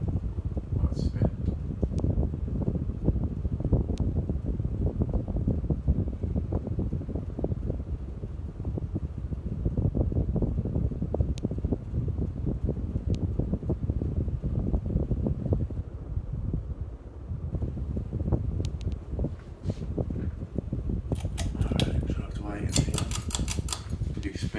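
An electric fan fitted with a 90s-style kit spins up to a steady, continuous whirring rush of air that holds for the length of the clip, with a faint rattle toward the end.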